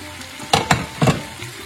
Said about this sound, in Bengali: 2 টেবিল স্পুন আদা গ্রেট করে দিলাম